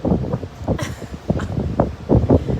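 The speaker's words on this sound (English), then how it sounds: "this wind is blowing" Wind gusts buffet the microphone on an outdoor balcony, giving a loud, rough, uneven rumble that swells and drops over a few seconds, with no voices.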